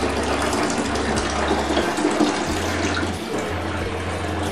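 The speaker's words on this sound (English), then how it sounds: "So I'm filling up the brewing bin with water and sterilising salts." Water pours steadily into a plastic brewing bin with sterilising salts, a loud continuous rushing fill that holds on without break.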